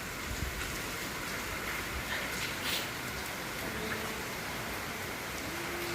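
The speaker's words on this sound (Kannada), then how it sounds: "ನೀರು ಎಷ್ಟು ಹರಿಯಕತ್ತಾವ ನೋಡಿರಿ" Water flowing steadily during a rainstorm at a village home, a constant rushing wash with no break and no voices.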